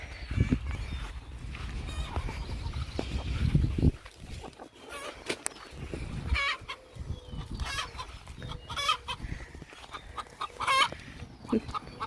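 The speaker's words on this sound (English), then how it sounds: "I hear the egg song going." Hens cackle their egg song in repeated, rhythmic bursts from a short distance in a Missouri garden, a loud clucking rising and falling with some rustling in between.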